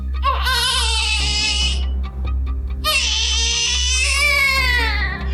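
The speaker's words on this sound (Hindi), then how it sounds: "रात को 10 बजे पड़ोसियों ने एक छोटे बच्चे की रोने की आवाज सुनी।" A small child cries loudly and close by in wailing bursts with a short pause between, over a low steady hum.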